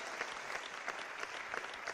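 Church congregation applauding during worship, a steady, dense wash of clapping that stays even and moderately loud throughout.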